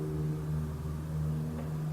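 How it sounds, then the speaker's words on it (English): Steady road traffic outside a house, a continuous low rumbling drone of passing vehicles that holds at an even level throughout, with no voices. "There's so much traffic out there today."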